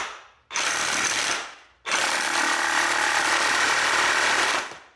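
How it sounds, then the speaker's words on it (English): A reciprocating saw cuts through the rear shock absorber shaft of a 2011 Mazda CX-7. It buzzes loud and close in two sustained bursts, a short one then a longer one, separated by a brief pause. "I can just cut through this shaft with a reciprocating saw"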